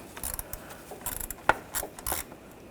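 A ratchet wrench loosens a coolant pipe fitting on a 2009-2017 Volkswagen Tiguan 2.0L four-cylinder, giving close, irregular bursts of sharp metallic clicks with one louder snap midway and no speech.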